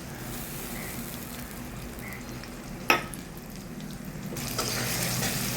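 Spice paste sizzles in a pan with softened tomato, a soft steady frying hiss broken by a single sharp clink of a utensil midway, growing slightly louder toward the end.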